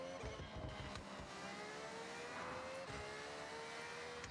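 A car engine drones and revs continuously, its pitch rising and falling, with a synthetic, game-like tone and no voices.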